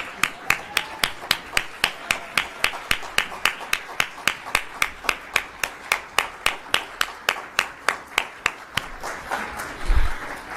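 Steady, evenly spaced hand claps ring out close and crisp for about ten seconds as a panel audience sends a speaker off stage, trailing into looser noise near the end.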